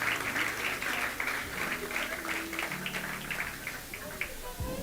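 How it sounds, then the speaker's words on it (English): Audience applause at the closing awards ceremony of the Cricket West Indies women's under-19 championship: sustained crowd clapping in a large venue, with an announcer's amplified voice talking over it. "Please, one last round of applause for the Leewards."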